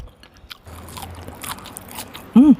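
Crunchy bites into a crispy fried bakso meatball with gochujang and peanut sauce, faint and close, a few soft crackling chews followed by a brief hummed vocal sound at the end.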